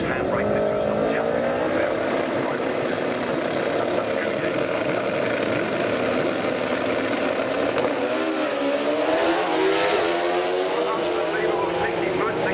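Drag racing motorcycle, a matte black bike, blasting down the strip at Santa Pod during the FIA/FIM European Drag Racing Championships finals, a loud sustained high-revving engine roar with rising and falling pitch.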